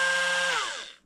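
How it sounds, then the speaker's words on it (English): A small battery-powered Dremel with a diamond cut-off wheel cutting a dried gourd, a loud high whine held for about a second and then winding down as the tool slows. "I'm using a diamond cut-off wheel on my little Dremel."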